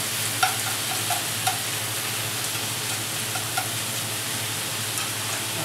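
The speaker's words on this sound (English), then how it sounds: "I am stir frying this in just a bit of sesame oil" Food stir frying in a little sesame oil for a hot pot, a steady close sizzle with faint scattered ticks of stirring throughout, no voices.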